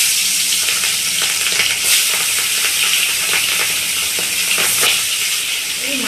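Hilsa fish goes into hot oil, setting off a loud, continuous crackling fry up close, with a few sharper spits and scrapes rising over the steady sizzle.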